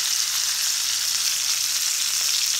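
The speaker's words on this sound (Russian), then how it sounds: "Обжариваем немного чесночок и розмарин." Garlic and rosemary frying in melted butter in a hot pan alongside an entrecôte steak, giving a loud, steady, close sizzle with constant crackling spatter throughout and no voices.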